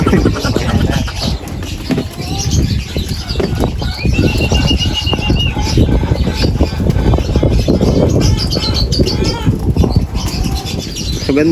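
Racing pigeons at a derby flap their wings in repeated bursts near the listener, with squawks and scattered chatter from people throughout.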